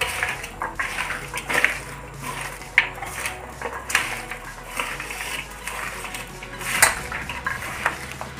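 Beetroot chips being stirred and mixed with chili powder, salt and oil in a metal bowl or pan, with repeated scraping clinks and clatters of a spoon against the dish throughout.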